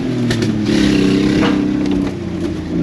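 The exhaust of a 2001 R50 Nissan Pathfinder drones loudly up close, a steady low rumble that swells slightly as the engine picks up before settling again.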